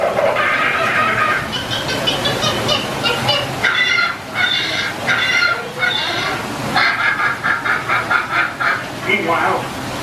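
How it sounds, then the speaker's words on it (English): Loud squawking and honking of agitated birds on the Jungle Cruise ride at Magic Kingdom, Walt Disney World, in repeated bursts over a steady background, with a guide's talk mixed in. "the treetops explode in a frenzy of outraged birds"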